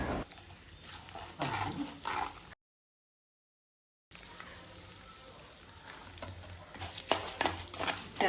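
Urad dal and mustard seeds crackle and sizzle in hot oil for tomato bath, with steady stirring. The sound cuts to complete silence for a moment midway, then the frying resumes.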